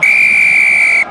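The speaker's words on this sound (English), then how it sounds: "Whistle will go here, penalty" A referee's whistle at a Top 14 rugby union match between Montpellier and Bordeaux-Bègles, one loud, sustained, piercing blast of about a second.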